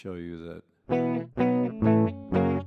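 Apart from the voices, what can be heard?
clean guitar amp tone, Fender 5E3 emulation in Ableton Live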